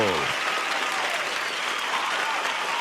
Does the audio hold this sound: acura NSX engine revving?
no